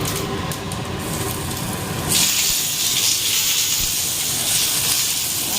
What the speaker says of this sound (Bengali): তেজপাতাটায় জল ছিল তো ধুয়েছি ওই জন্য সেটা এইভাবে তেল ছিটছে ছ্যাপ করে উঠলো